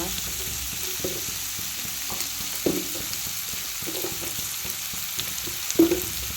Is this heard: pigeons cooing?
no